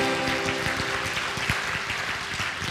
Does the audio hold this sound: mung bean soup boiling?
no